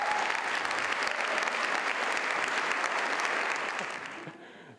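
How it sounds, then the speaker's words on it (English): Audience applause at the Biennale Teatro in Venice honouring the people of Teatro Marinoni and Teatro Valle in Rome, a dense, steady wash of many hands clapping that fades out at the end. "please give them an applause"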